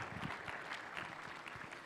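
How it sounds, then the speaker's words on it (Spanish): Audience applause after a church youth group's theatre play at a Bible seminary, a steady dense patter of clapping from a gathered crowd, fairly faint and distant throughout. "vamos a dar fuertes aplausos con esta obra teatral"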